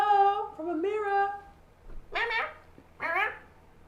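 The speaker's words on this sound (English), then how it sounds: "The kitties say hello from Amira." Pet cats meow in a few short, faint calls, some higher and whiny, others rising sharply, with quiet pauses between them in an indoor room.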